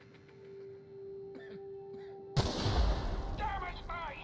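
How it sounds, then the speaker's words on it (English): A single loud gunshot blast from the sci-fi video game The Outer Worlds cuts in suddenly after quiet ambient tones, followed by a low rumbling aftermath and ringing tonal effects, with a voice speaking over the tail. "guess I gotta shoot my way out"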